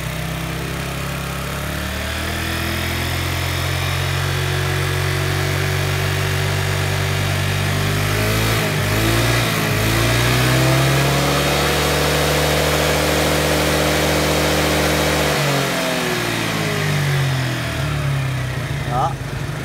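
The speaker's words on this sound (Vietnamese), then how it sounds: "bây giờ mình sẽ ga tiếp này" Yamaha Sirius motorbike engine held on the throttle, a loud, steady mechanical drone that rises in pitch as it revs up, dips briefly, then climbs again, with a person talking over it.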